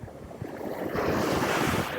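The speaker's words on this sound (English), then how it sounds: "Right before that wave breaks." Surf breaks on a Southern California beach, a rushing swell that builds and roars louder midway, mixed with wind buffeting the microphone.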